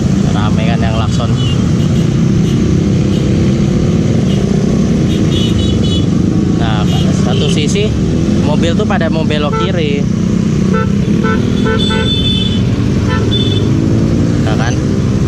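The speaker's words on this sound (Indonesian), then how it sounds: "Nah, kan rame kan yang klakson." Car horns honk repeatedly in a jam at a junction with a dead traffic light, heard from a Honda Supra X motorcycle over loud engine and wind noise as the rider talks.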